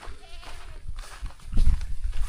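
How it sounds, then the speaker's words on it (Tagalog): Several goats bleat nearby in an outdoor rural setting, giving short wavering cries over rustling and low background noise, with a louder burst near the end. "Dami kambing."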